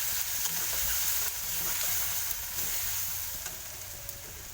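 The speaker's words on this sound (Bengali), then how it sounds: "পেঁয়াজ রসুনটা এরকম হালকা ভাজা হয়ে গেলে এর উপরে আমি কিছুটা হলুদ দিয়ে দেবো।" Onion, garlic and turmeric fry in hot oil in a pan with a loud, continuous, close sizzle and occasional soft stirring scrapes throughout.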